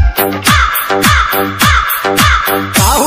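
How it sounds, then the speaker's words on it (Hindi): A crow caws loudly and close by, giving about six harsh, evenly spaced calls in a quick rhythmic series. "अच्छा, कौवे का आवाज आ रहा है भाई।"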